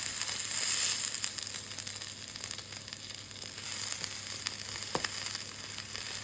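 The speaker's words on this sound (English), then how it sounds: "You want it to just sear, so I'm just gonna take it on the edge and just start rendering the fat down." Steak fat rendering as the meat sears on its edge in a hot HexClad pan, a continuous hissing sizzle with crackling bursts that swell and ease, near and fairly loud, with no speech.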